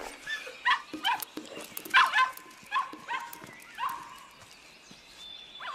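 A dog in an animated picnic scene gives a string of short barks and yips in uneven bursts, fairly close, with some thumping movement between.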